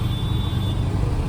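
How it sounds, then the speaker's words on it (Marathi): Road traffic heard from inside a moving car: a loud, steady low engine and tyre rumble with a faint high whine, no talking. "ट्रॅफिक बघ केवढं आहे."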